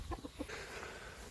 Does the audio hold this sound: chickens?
yes